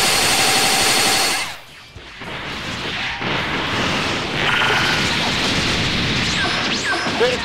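Missile strikes in the video game Dragon Ball Xenoverse 2: a dense rattling barrage that cuts off abruptly, then a rumbling, crackling wash of explosions and debris that carries on loudly to the end.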